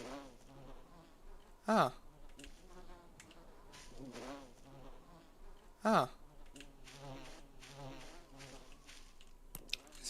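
Bees drone and buzz around a hut in the Voices of the Void game, a dense, wavering hum with a few sharp louder swells, while a voice briefly exclaims over it.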